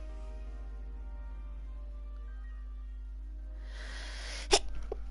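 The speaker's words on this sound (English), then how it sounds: "Oh crap, I'm gonna sneeze." A single sharp human sneeze close to the microphone, preceded by a brief intake of breath and followed by faint trailing noise, over a quiet electrical hum.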